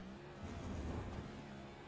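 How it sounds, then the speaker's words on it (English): A race car in the iRacing sim at Watkins Glen, an ICON Cup series car hopping over the bus-stop curbs, gives a steady low engine drone with rear-tire scrabble, moderately loud and unbroken for about two seconds. "You can hear the rear tires spinning as he comes through there and comes off the curbs."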